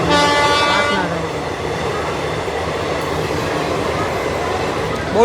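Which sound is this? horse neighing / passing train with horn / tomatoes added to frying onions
passing train with horn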